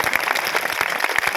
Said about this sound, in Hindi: ताली तो बहुत कम बज रही।